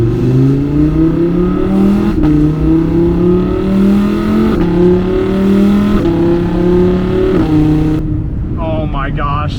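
Audi R8 with a naturally aspirated V10 accelerating hard from the driver's seat, its loud rising engine note climbing through several quick gear changes with brief dips between pulls, no talking.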